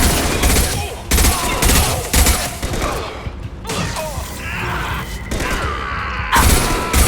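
Loud gunfire from the Mass Effect video game fills the scene in heavy repeated bursts and volleys, with mechanical clatter and brief talking mixed in.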